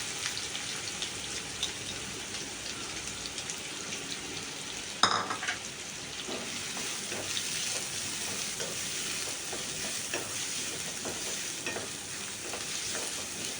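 A steady hiss of frying in hot oil, with a sharp burst as finely chopped onions are dropped into the pan and the sizzling continues evenly.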